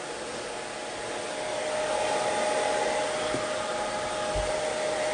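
A hair dryer running on its low setting while drying hair for curls, a steady close whir with a faint high whine, continuous for several seconds with no talking.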